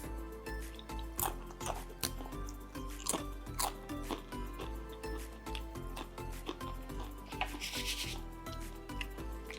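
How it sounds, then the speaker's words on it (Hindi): Homemade nachos give repeated loud, close crunches in an irregular rhythm with no talking. "Listen to the crunch."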